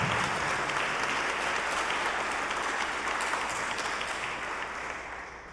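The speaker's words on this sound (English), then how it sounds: "let's have a round of applause for these two" Warm, sustained applause from a church congregation greets two scholarship recipients, a dense, steady clapping that carries on and fades slightly at the end.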